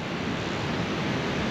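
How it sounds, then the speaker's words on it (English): Ocean waves breaking on a beach, a loud continuous wash of surf and rushing water, close and steady, with some wind noise across the microphone. "The waves are so nice"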